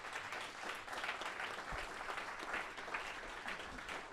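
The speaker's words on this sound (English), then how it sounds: "So final round of applause for the speakers." Applause from an audience at a sales panel event, a steady wash of clapping at moderate distance, fairly quiet and continuous with no clear talk over it.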